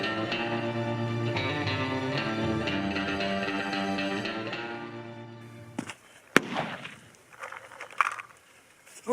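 A single sharp, loud crack from a .223 Remington Palmetto State AR-15 rifle fired at an outdoor shooting bench, arriving after several seconds of steady music and followed by scattered lighter noises.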